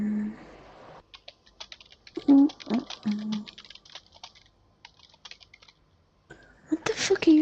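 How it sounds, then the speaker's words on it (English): Rapid keystrokes clatter on a computer keyboard during a Destiny 2 session, bursts of close clicking broken by short pauses, with voices talking over parts of it. "What the fuck are you typing?"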